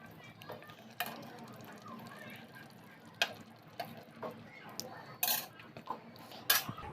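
A spoon skimming oil off curry in a handi pot on a switched-off stove, with scattered clinks and taps of metal against the pot amid soft scraping, close and fairly quiet.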